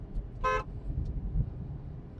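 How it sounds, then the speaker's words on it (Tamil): A single short car horn toot sounds over a low, rumbling engine idle in a driving-school car. "ஹார்ன் அடிங்க, ஹார்ன் அடிங்க."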